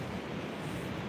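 Ocean waves roll onto the shore beside an oceanfront yoga session, a steady broadband wash of surf with a low rumble, continuous and fairly close.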